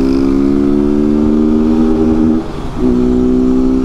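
A Honda Fan 160 motorcycle engine runs loud and close, holding a steady buzzing rev that dips briefly and then comes back up.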